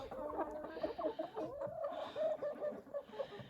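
An Americana hen clucks in a farmyard, with a run of soft, rapid clucks and murmuring calls, close by and continuous, with no one talking.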